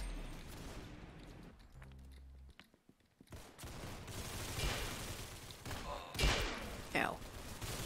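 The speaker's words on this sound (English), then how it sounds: "Actually, no, I think that's a Gatling gun." Gatling gun fire in a team-based shooter video game: a dense, rattling burst of rapid shots mixed with booming game effects, fairly quiet overall, with a voice talking over parts of it.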